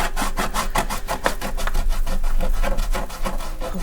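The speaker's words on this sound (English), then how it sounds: "I'll take off the straight edges. I can probably do that with a bit of sandpaper." Sandpaper rubs back and forth along the edges of a wooden box in fast, even strokes, a close, steady rasping rhythm that keeps going with no speech.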